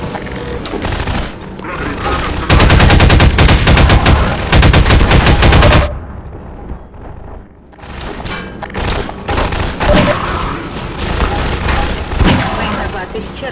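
Rapid bursts of automatic fire from a mounted gun shelling a village in Half-Life 2: Lost Coast, loud and close, broken by a brief lull before scattered shots and booms resume.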